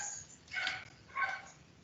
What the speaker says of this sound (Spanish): les ofrezco una disculpa por el ruido ambiental, es que estamos en un lugar con muchos perritos.